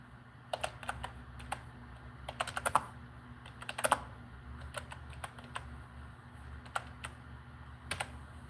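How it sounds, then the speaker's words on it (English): Someone types on a computer keyboard during a livestream, irregular clusters of close, crisp key taps over a low steady room hum, no voice. "Let me type it in for you."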